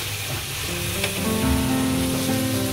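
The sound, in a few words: chopped onion and chili sizzling in oil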